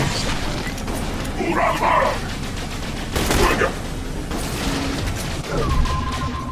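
Automated turret gunfire in the video game The Bureau: XCOM Declassified, heard as rapid bursts and shots mixed with other battle noise and loud moments, with voices calling out over the combat.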